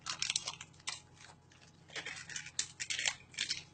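A small plastic bag is torn open with the teeth to reach a gold coin: close, quiet crinkling and rasping bursts of plastic tearing, in short irregular bursts with no talk.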